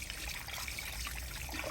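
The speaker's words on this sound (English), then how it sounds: "Now let's empty this out again and see how dirty the water is." Dirty water trickles and splashes as the waste tank of a Tineco Carpet One carpet cleaner is emptied, a faint, steady pour with no speech.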